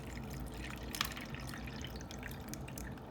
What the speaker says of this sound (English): Then we will take our cold water as well, and we will fill this side up.